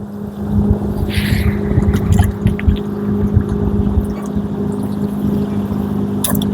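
A small speedboat racing very fast across water near a Norwegian fishing spot, its engine a steady droning hum with splashing and water rush close by; no talking.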